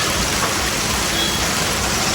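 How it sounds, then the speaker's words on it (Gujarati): Heavy, continuous rain roars loud and unbroken, a dense wash of drops pounding close by with no pause and no voices. "ક્યારનો ચાલુ છે આ વરસાદ, એક ધારો 20 થી 25 મિનિટ થઈ ગયો ને આવો ને આવો છે વરસાદ"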